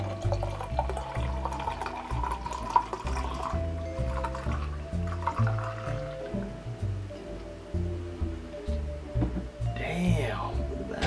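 Homemade honey mead poured aggressively and splashing into a glass, with gurgling, dripping liquid throughout and someone talking over it.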